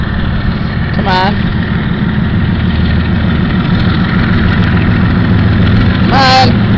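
A Pan Am Railways freight locomotive's deep, steady diesel engine idles with a low throbbing rumble, and two short horn blasts sound near the start and the end.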